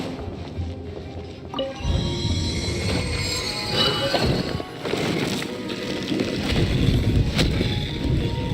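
Gliding on a wind current in the game Genshin Impact, a continuous rushing, whooshing wind roar that swells slightly over time, with faint game effects layered on top.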